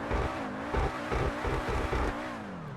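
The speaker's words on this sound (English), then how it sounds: "Has a big old engine" Big engine of the SC1 car in GTA 5 Online, a steady loud revving drone with rising and falling pitch and rhythmic pulses, heard alone with no talking.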